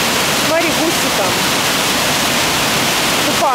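Water pours steadily over an artificial dam on a university campus, a loud, continuous rushing roar heard up close, with brief voices in the background.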